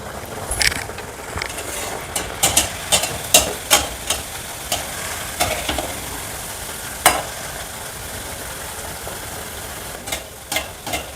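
Nippattu rice crackers frying in hot oil, a steady sizzle under a series of sharp clicks and scrapes from handling the pan, close and moderately loud.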